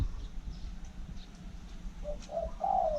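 A caged decoy bird at a hunting camp gives a short low cooing call near the end, faint and close, over a quiet outdoor background with no talk.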